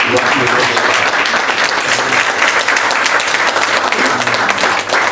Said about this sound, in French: ça méritait une acclamation